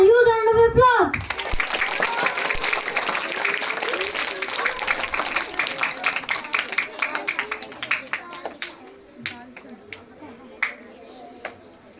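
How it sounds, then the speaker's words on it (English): School event audience gives a round of applause after a brief spoken introduction, dense clapping that gradually thins into scattered individual claps fading out over several seconds. "Let's welcome him with a huge round of applause."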